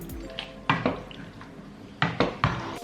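Green beans and meat are stirred in a cooking pan, a few scattered metallic scrapes and clinks of a utensil against the pan, loud and close, in two short clusters.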